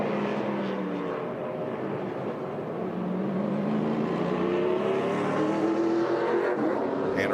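ARCA Menards Series West race cars at Portland International Raceway roar down the long front straightaway, a loud continuous engine drone with rising and falling pitch as cars pass, no voices.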